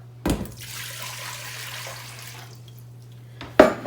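Water pours into a large cooking pan for tomato soup, a soft continuous splashing rush lasting a few seconds, framed by sharp clanks at start and end over a low electrical hum.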